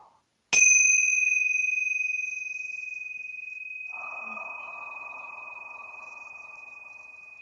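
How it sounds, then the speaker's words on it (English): Tingsha bells struck once, giving a sharp, bright ring that sustains a long, slowly fading metallic tone, close and clear, with a soft hum entering partway through. "So I'm going to ring the tincture bells and clear out any lower vibrations"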